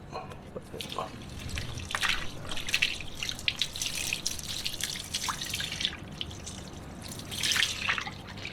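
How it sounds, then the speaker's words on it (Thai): Water is sprayed onto a car tire coated with T-K ONE black tire dressing, making a soft, continuous patter and dripping of droplets at close range, with a brief voice near the start. "ลองเอาน้ำมาฉีดดูนะ"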